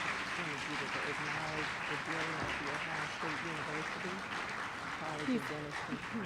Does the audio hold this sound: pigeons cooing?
no